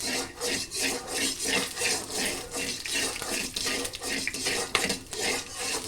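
Chilli and peanuts are stirred in a pan over a low flame, a close, steady rhythm of a utensil scraping and rubbing against the metal with repeated strokes.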